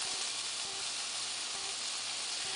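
Ground beef browning in a pan over a moderate flame gives a steady, close, even sizzle throughout, with faint low knocks beneath and no voices.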